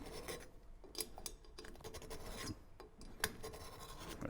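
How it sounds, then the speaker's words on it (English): A file rasps along the edge of a modified turbo compressor cover on an Astra H VXR, deburring it in a run of close, scratchy strokes with brief pauses between them. "I'm just kind of deburring the edge of the compressor cover"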